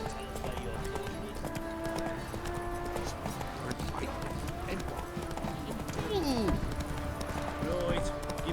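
Roach the horse galloping in The Witcher 3 video game, a steady clip-clop of hooves running under game music and ambience, with voices talking over it.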